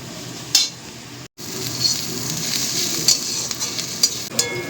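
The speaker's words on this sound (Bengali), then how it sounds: "চিনি দিয়ে পেঁয়াজ ভাজলে কালারটা দেখো ঠিক" Onions sizzle and fry in hot mustard oil with sugar in a pan, a steady close sizzle broken by a short gap, with occasional light clinks and stirring scrapes.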